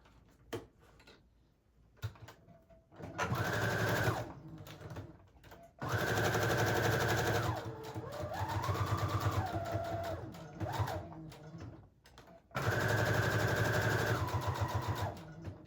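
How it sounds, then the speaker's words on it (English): A sewing machine stitches around fabric edges in three loud, steady bursts of rapid mechanical whirring, with quiet pauses between them and a brief slower run in the middle. "I am going to sew off camera just so I don't have to move everything around. Okay, and I will just simply sew around the edges."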